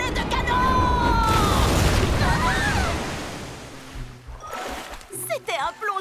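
A big splash and rushing water surge loudly, then subside into sloshing and dripping as excited voices cry out over the churn.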